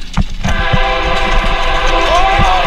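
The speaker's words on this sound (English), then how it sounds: "active train is coming." A train bearing down inside a tunnel, a loud, constant rumbling roar with screeching metallic tones and a rising horn-like whine near the end, all close and filling the space throughout.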